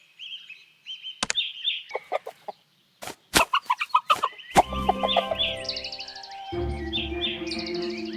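Chickens cluck and squawk in the Lost Lands 10 video game, a run of sharp clucks and chopping noises building into busier, layered fowl calls over about eight seconds, with no speech.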